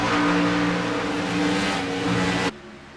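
Loud race car engines roar at full throttle during a Premier Racing League Patriot Fire Cup Series race, a dense droning wall of sound that cuts off abruptly near the end.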